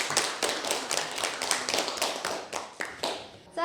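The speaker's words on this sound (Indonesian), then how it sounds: "Berikan tepuk tangan." Classroom audience clapping for a student group's performance, a dense burst of many hands with sharp accents, fairly close and loud, tapering off after a few seconds without talk.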